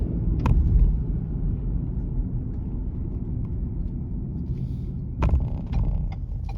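A car driving on the road from Jefferson to Middletown, Maryland, gives a steady low engine and tire rumble from inside the cabin, with a couple of brief clicks or bumps and no speech.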